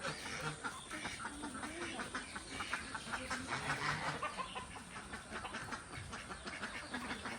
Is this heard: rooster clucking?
yes